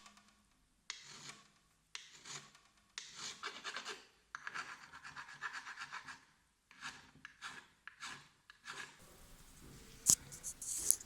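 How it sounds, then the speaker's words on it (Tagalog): A file rasped across a LiFePO4 battery cell from a 12V 100Ah pack, working it flat in repeated close scraping strokes, each about a second long, separated by brief pauses. "So ngayon ay ipa-file ko muna to para maging mas flat."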